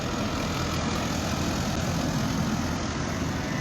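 Tractors pulling trolleys full of farmers drive by on the road from Rohtak toward Delhi near the Rohad toll plaza, making a loud, steady, low engine roar with no break and no voices.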